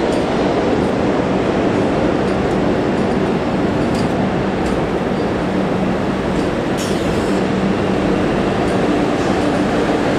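A Vande Bharat train roars past at about 130 km/h, a loud continuous rumble and rush of wind with faint rattling, steady throughout.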